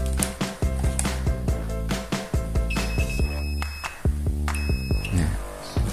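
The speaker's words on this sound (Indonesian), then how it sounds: "Nah, kita pakai buzzer aja ya." Continuity buzzer on an analog multimeter sounds in repeated short buzzing pulses while a wire is tested, close and loud, with a couple of longer held tones among the stuttering beeps.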